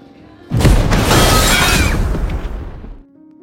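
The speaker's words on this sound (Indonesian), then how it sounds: "terjadi ledakan pipa gas di sebuah bangunan apartemen" A sudden loud gas pipe explosion in an apartment building bursts out with a deep boom and crashing, shattering debris that rumbles for a few seconds before cutting off.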